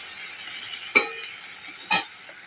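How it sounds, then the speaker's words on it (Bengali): Taro stolons (kochur lati) frying in oil in a pan give a steady soft sizzle, broken by two short clattering stirs about a second apart. "তাহলে লতিটা একটু ভাজা ভাজা হয়ে যাক।"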